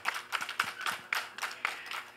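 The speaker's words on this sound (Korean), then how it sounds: "네, 큰 박수 한번 부탁드리겠습니다." Applause from the audience at a Korean film press screening for the movie 'Spring Night', scattered, uneven clapping filling a short stretch, fairly soft and close, with no voices over it.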